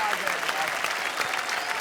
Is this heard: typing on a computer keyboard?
no